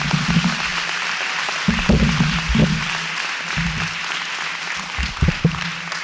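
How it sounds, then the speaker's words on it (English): An audience applauds at an elementary school ribbon cutting, steady dense clapping throughout with a few louder nearby claps and some low background murmur. "So if you give them one more round of applause."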